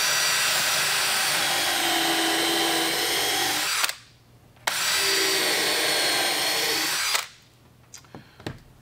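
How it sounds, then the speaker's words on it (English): A power drill bores a pilot hole in wood for shop furniture with half lap joints, whining loud and steady for two long runs separated by a short stop, then spinning down. "I will also be drilling a pilot hole, as I just always like drilling pilot holes even when I'm using wood screws"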